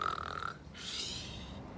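A storyteller reading Goldilocks and the Three Bears aloud imitates snoring with her voice: a brief nasal, buzzing inhale followed by a long breathy exhale, close and fairly quiet.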